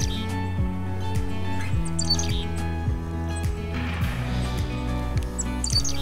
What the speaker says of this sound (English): There's a chickadee.